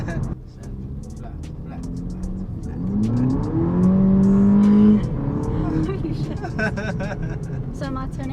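A VW Polo GTI on new tyres accelerates at full throttle, its engine note climbing steadily in pitch and loudness from inside the cabin before easing off, with a voice speaking over it.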